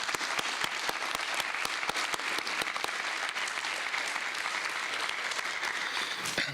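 A hall audience applauds National Honor Society inductees at a school induction ceremony, with steady sustained clapping from a large crowd running throughout at an even level.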